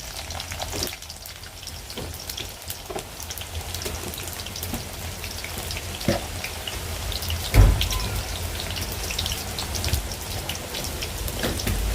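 Chopped garlic frying in oil for a mango pickle, with bay leaves added, a steady crackling sizzle like rain on a surface with scattered sharp pops, close and fairly loud throughout, no talking.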